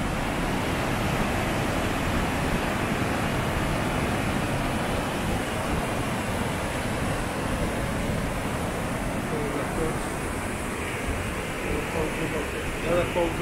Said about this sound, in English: Should be much closer to the falls itself. You can certainly hear them anyway.